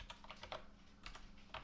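Quiet, quick tapping on a computer keyboard comes in short bursts of keystrokes separated by brief pauses, with no voices.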